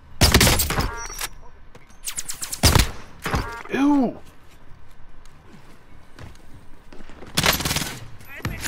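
Gunfire in a video game squad fight, with several loud bursts of broadband shots spread through the stretch and a voice talking in between.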